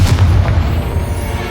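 A Confringo spell blast in Hogwarts Legacy, a single deep booming explosion at the start that rumbles and fades over a second and a half.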